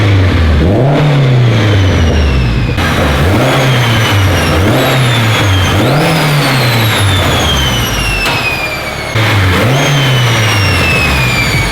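Honda Civic Si with a Vibrant muffler and resonator revving repeatedly, loud and close, with rising and falling engine pitch in several throttle blips over a steady exhaust drone.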